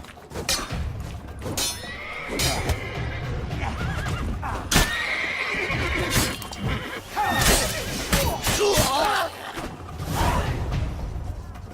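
Horses whinny and neigh repeatedly amid clattering hooves and busy, layered effects in The Witcher 3: Blood and Wine, fairly loud and continuous throughout.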